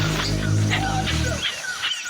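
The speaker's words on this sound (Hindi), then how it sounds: "अब हम मकड़ी बंदर की आवाज़ सुन सकते हैं।" Spider monkeys call in the Amazon rainforest, far off, giving faint high whistling calls repeated over a dense background of forest noise.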